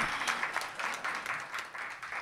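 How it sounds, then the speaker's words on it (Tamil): Audience at an award function for Carnatic music applauding in a hall; quiet, dense clapping runs steadily throughout with no voices over it. "இன்றைக்கி பெரிய கரகோஷம் கொடுக்கணும் நீங்கள்"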